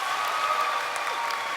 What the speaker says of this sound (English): I wanna hear you clap one time.